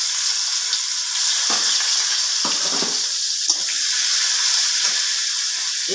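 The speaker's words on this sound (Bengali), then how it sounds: "এবার আমি এই কুচিয়ে নেওয়া পেঁয়াজটা দিয়ে দিলাম।" Chopped onion hits hot oil with spices and fries in a steady, loud sizzle, with a few scrapes of stirring in the pan.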